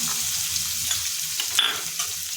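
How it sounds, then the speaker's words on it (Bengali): Chopped onion and green chili hit hot oil with a close, steady sizzle, a bright crackling hiss with a few sharper pops and no voices. "গরম তেলে দিয়ে দিচ্ছি বড় একটা পেঁয়াজ কুচি, তার সঙ্গে দিয়ে দিচ্ছি কাঁচা লঙ্কা কুচি"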